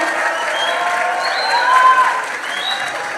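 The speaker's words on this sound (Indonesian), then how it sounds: "Beri tepuk tangan yang meriah untuk kita semua" An audience applauds steadily to welcome a speaker onto the stage at a university event, dense and fairly loud clapping that holds throughout, with a few faint cheers rising above it.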